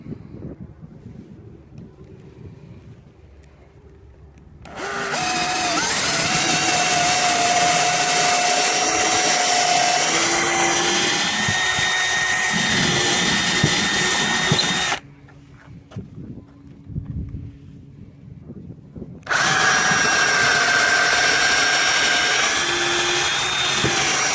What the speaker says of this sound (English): we will proceed to drill some holes and put in our hooks